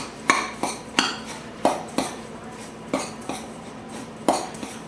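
Breadcrumbs and butter mixed in a bowl, a series of about ten sharp clinks and taps of a utensil against the dish in an uneven rhythm, close, no talking.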